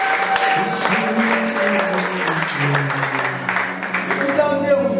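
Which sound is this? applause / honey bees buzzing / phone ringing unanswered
applause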